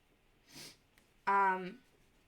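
A quick sniff, then a short voiced snort-like breath through the nose, close and fairly loud, with no talking.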